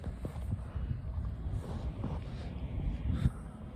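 Wind rumbles and buffets against the microphone in uneven gusts at the Istanbul Airport spotter area, with faint thumps and rustling mixed in.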